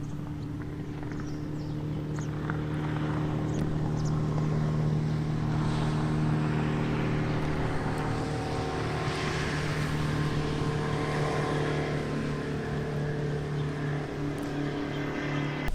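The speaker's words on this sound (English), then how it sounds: "Speedboat." Speedboat passing on the river at Meelick Harbour, a steady outboard motor drone heard from a moderate distance, rising slightly as it goes by, with faint outdoor background and no talk.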